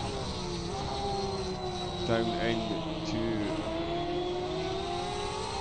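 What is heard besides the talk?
GTE race car engines at Spa, Automobilista 2 video game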